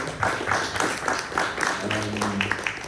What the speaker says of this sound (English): we should give another round of applause to Mo